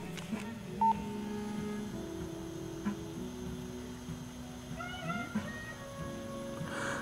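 A Nokia 5185i cellphone powering on, giving a short electronic beep and then a brief run of faint tones over a quiet room hum.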